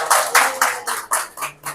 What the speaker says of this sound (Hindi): तो भाई हेड साहब के लिए ताली नहीं बजाओगे थोड़ी सी?